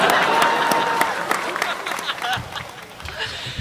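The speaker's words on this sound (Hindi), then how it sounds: "जोरदार तालियां आप उनके सम्मान में बजाएं।" A seated audience at a Hindi poetry recital breaks into applause, a dense patter of clapping with a few laughs and murmurs that gradually thins out over several seconds.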